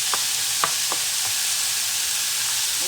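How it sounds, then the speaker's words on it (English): About a pound of ground beef drops into a hot pan for a beef casserole, starting a steady, close sizzle with a few soft clanks of a utensil early on. "Now I'm gonna add my meat in here."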